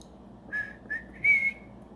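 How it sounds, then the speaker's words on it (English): Three short whistled notes from a person, close and fairly quiet, rising slightly in pitch, with the last note held longest, over faint background hiss and no talk. "Sorry, I know whistling's rude."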